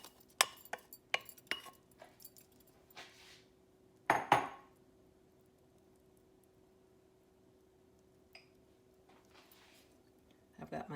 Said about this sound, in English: So I put my red lentils in, I put my quinoa in